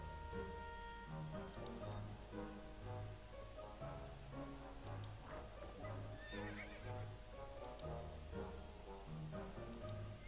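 Horse neighs and whinnies over a steady clip-clop of hooves in the video game To the Moon, set against a dense, continuous musical score with no talking.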